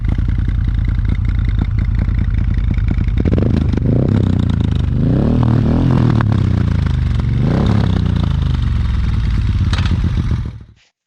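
A Moto Guzzi California 1400 V-twin runs close and loud, its engine and exhaust thumping at idle, then rising and falling through several revs before cutting off abruptly.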